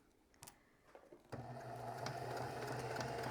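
A sewing machine stitches a quilt block with a 1/4 inch seam, starting after a few light clicks and handling sounds, then running steadily with a close, even mechanical whir to the end.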